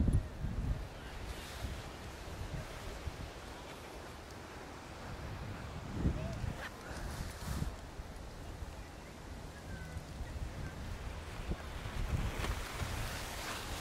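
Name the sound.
strong wind outdoors while pitching a tent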